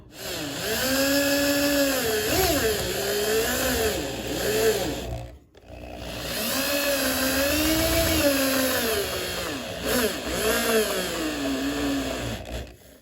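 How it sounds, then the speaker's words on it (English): A power drill drilling holes in a rubber snow blower impeller flap whines loudly in two long runs, its pitch rising and falling under load, with a brief pause between them. "Now I'm going to try to carefully drill these holes out."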